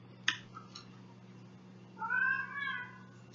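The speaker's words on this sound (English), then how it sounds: "now I have to go get the cat because she's crying" A pet cat cries indoors, giving a short sharp meow followed after a pause by a longer drawn-out wavering meow, close and fairly clear over a low background hum.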